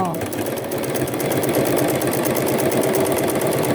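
A sewing machine stitches around the edge of a bag pocket, running in a steady, fast mechanical whir with a continuous rhythmic needle chatter, close and loud throughout.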